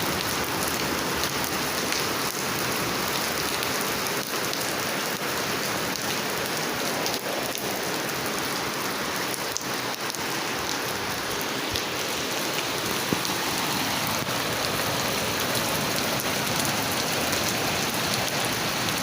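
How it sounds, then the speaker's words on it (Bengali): Heavy rain pours down nonstop in Saudi Arabia, a dense, loud, even hiss of drops hitting surfaces close by with no voices. "আজকে 2 দিন ধরে অনেক বৃষ্টি হইতেছে"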